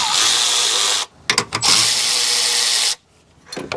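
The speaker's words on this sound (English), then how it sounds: "Now I'm going to loosen the two J hooks here on the battery hold down." A ratchet with a 10mm deep socket loosens the battery hold-down J hooks on a Honda Accord, giving long loud ratcheting bursts broken by short clicks and pauses, close up with no talk.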